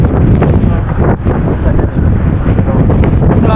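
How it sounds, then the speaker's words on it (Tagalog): Strong wind roars continuously across a mountain campsite, a loud, steady buffeting rush with gusty swells battering the microphone throughout, and no voices heard. "Napakalakas ng hangin."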